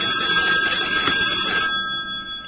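Phone ringtone with a bright electronic ringing tone, loud and steady for about a second and a half before cutting off and fading.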